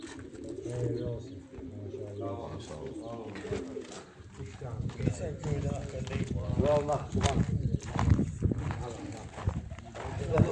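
Racing pigeons at a loft after a flight, cooing and fluttering close by in a busy, continuous stream, with people talking over them at times.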